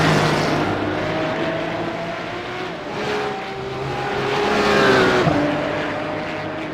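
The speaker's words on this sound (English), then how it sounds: "I love the sound of those Porsches." Porsche Cup race cars roar around Mount Panorama in a sustained, loud engine wail with shifting pitch as the cars pass and rev, a steady racing drone throughout.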